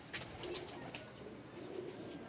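Pigeons of the Sikh breed coo softly and faintly, with low repeated coos over a quiet, steady background.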